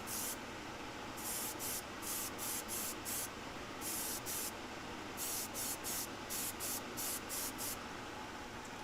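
Airbrush spraying Vallejo paint in short repeated bursts, sharp hissing puffs starting and stopping in an uneven rhythm over a quiet background hum, close and without talk.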